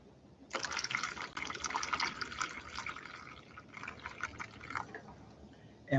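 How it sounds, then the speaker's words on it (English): Water pours steadily out of a container, gushing and splashing for several seconds before tapering into trickles and drips, near and fairly quiet. "We have to empty the water."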